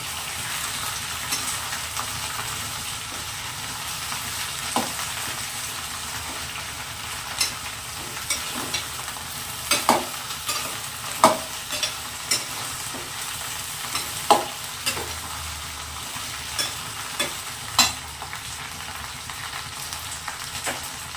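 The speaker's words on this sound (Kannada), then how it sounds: "ಇವಾಗ ಇದನ್ನ ನೀಟಾಗಿ ಫ್ರೈ ಮಾಡ್ಕೋಬೇಕು." Okra fries in a pan with a steady, soft sizzle while a spatula stirs at intervals, giving scattered sharp scrapes and taps over about twenty seconds, near and uninterrupted by speech.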